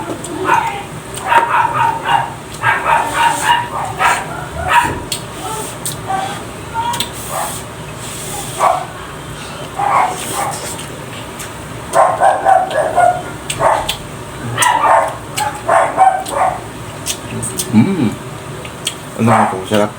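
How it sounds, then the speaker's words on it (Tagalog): A neighbour's dog barks and yips repeatedly in irregular bursts, fairly close, over a steady background hum. "Ingay ng aso guys ng kapitbahay namin"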